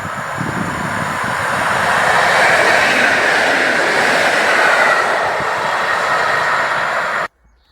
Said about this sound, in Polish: Od Katowic nadciąga kolejna ENK w kierunku Wisły Głębce.